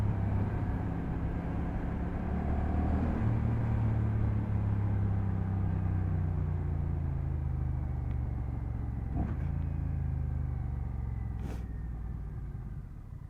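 A 2024 Honda Rebel 1100 cruiser motorcycle rides along with a steady, loud low engine drone and wind rush, its pitch shifting slightly midway as the rider works through the gears.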